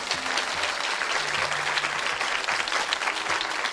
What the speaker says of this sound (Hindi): आइए तालियां बजाइए इन लोगों के लिए।